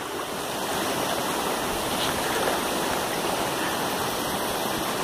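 Water of the Cañaveralejo river in Cali, Colombia rushes steadily nearby as a dense, continuous broadband wash with no talk over it.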